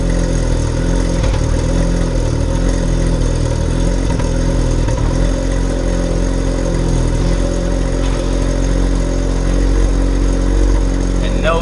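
A Mazda RX-7 engine idles through a new exhaust with a steady low rumble throughout, deep and continuous, not raspy, up close, with a voice talking briefly over it.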